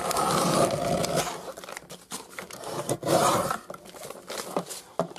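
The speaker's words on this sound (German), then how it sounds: "Ich falte das hier in der Mitte und schneide da das ganze Stück ab." Scissors cut through folded paper in repeated rasping, crunchy strokes, close and fairly loud, coming in bursts with short pauses between cuts while making a junk journal.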